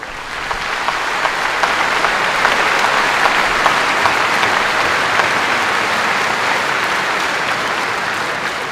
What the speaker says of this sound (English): I'd love for you to help me and applaud our students for really a great week of being here.